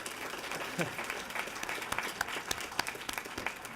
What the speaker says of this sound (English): I think we should owe him a round of applause again.